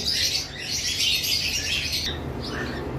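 A pet bird kept among caged birds offered for sale chirps in a bright, busy burst of close tweets, briefly pausing near the end before a few more calls, with no talking.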